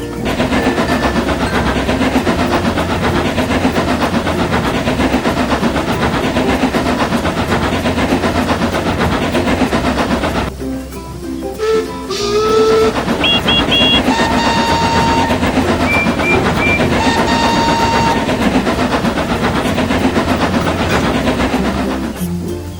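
Stepney the Bluebell Engine, a small steam locomotive, draws near on a heritage railway with loud, steady rumbling and clattering, followed by a short lull, then a few whistle toots over continuing rail noise.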